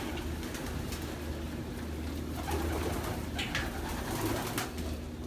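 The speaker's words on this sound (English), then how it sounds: "I don't know whose bird this is, but it's a nice one." Pigeons coo softly indoors in a loft, low repeated cooing over a steady background hum, with occasional faint rustles and no speech.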